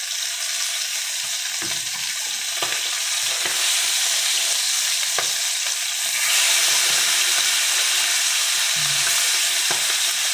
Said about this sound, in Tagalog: Bahagya lang natin ipiprito.